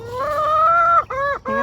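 Ducks on a small half-acre homestead give a loud, close, nasal honking call: one long drawn-out note followed by two shorter, quick ones.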